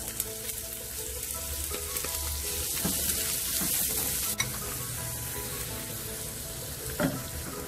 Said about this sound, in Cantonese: 先爆一爆啲洋葱